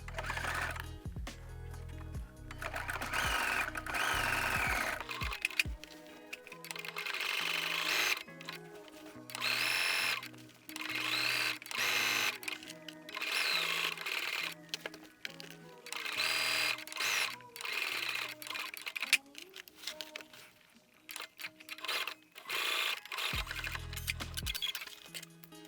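A sewing machine stitches decorative loops onto a jacket, running in bursts of steady mechanical whirring that stop and start for about twenty-five seconds, with no talking.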